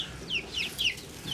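Several young chickens, still being raised under heat lamps before joining an older flock, give soft chirping clucks in quick, irregular bursts, fairly close and alone with no talking.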